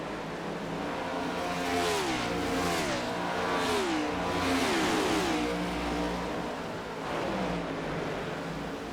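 Ford Mustang stock cars racing in a Pocono cup series video game, engines revving loudly and rising and falling in pitch as several cars sweep past close together, with continuous engine roar throughout.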